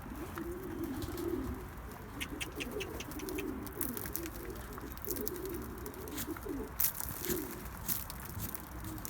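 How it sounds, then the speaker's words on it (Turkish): Pigeons cooing outdoors in soft, repeated low calls over about nine seconds, with faint ticks and rustling in the background. "Kuşları dışarı saldık biraz hava alsınlar diye."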